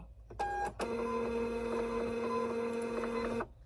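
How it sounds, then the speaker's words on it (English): A label printer printing a shipping scan form: a brief whir, then a steady mechanical buzzing feed with a tonal hum lasting nearly three seconds before stopping, close and alone. "The label printer."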